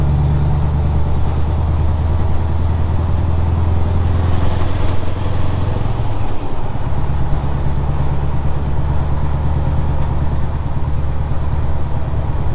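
A Scania V8 truck rolls through puddles, its deep steady engine drone loud and continuous with a brief swell of splashing water in the middle before settling back to a constant rumble.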